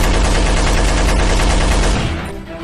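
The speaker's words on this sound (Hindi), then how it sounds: "भदोही जिले में फिर तड़तड़ाई गोलियां" Dense, rapid bursts of gunfire fill the air in Bhadohi district, a loud continuous crackle of shots that fades out near the end, with no talking.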